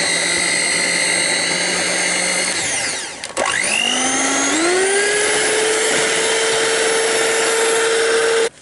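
Electric hand mixer beating cream cheese frosting with powdered sugar and lemon juice, a steady loud motor whine that dips briefly then climbs to a higher pitch and runs on alone.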